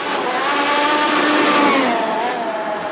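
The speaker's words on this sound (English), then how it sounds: "One thing I love about these cars is that sound it makes. I think it's the tires gripping." Arrma Outcast 8S EXB RC car on a closed road during a high-speed flyby, a loud continuous whine of tires gripping and the motor pitch sliding as it passes close by.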